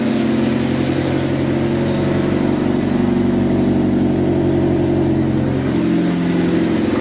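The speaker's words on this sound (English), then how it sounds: "So this is how it sounds with the exhaust that I have on right now." A Hyundai Tiburon engine idles steadily through a deep, throaty aftermarket exhaust with eBay headers, a constant low rumble with no revving and no voices.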